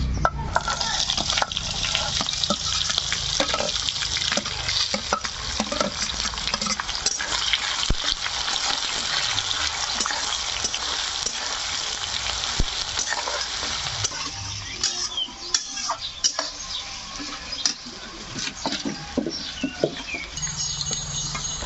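Chopped onions and curry leaves frying and stirred in a hot pan for chicken biryani, a steady close sizzle with patter and scraping stir strokes throughout.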